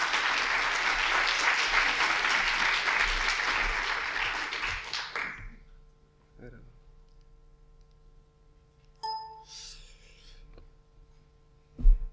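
Loud applause from an audience at a public-policy round table fills the first five seconds, then stops abruptly, leaving faint room noise, a few small clicks and a brief murmur.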